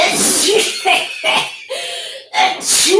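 An allergy sneeze bursts out close and loud, followed by short breathy sniffs and gasps in a quick sequence.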